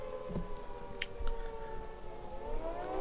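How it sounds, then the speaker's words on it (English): A civil defense emergency siren wails steadily, a loud sustained tone holding for about three seconds, with no voices over it. "Oh, you mean emergency sirens?"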